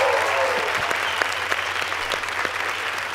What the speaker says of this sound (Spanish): Un aplauso, sí, señor.